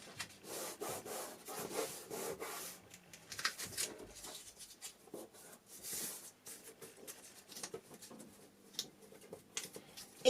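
Paper or thin card being pre-folded and creased for a petal box, heard as close, soft rubbing and scraping strokes in irregular bursts with brief quiet gaps, with no talking.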